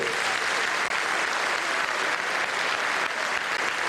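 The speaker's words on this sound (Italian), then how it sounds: "Un bel applauso per Sauro Frutti." Gala crowd applauding a footballer at a football club centenary celebration, a thick, continuous wash of clapping from a large audience, loud and sustained with no speech over it.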